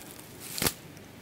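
Scissors make a single short snip through cord while a grass hut is being built, a quick crisp cut up close in an otherwise quiet moment.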